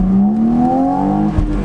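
A car engine in sport mode with a stock exhaust revs up loud and close, a steady rising drone that climbs smoothly in pitch over under two seconds, with a brief thump near the end.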